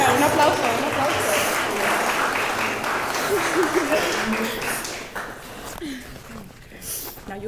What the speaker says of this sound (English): let's get a round of applause for the groom